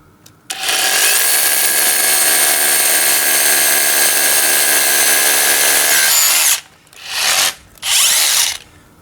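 Cordless Einhell or Bosch rotary hammer drill running loud and steady for about six seconds, then two short bursts after brief pauses, with no talking.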